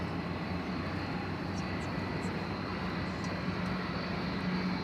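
Qantas jet airliner at Dallas Fort Worth Airport: a steady, loud engine roar and rumble that holds evenly throughout, heard from the ground without talk.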